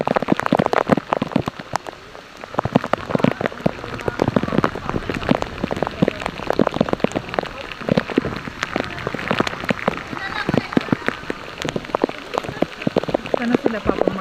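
Heavy, cold rain pelts the water and rock of an underground river lagoon at Big Lagoon, a loud, dense patter of drops that continues throughout with little letup.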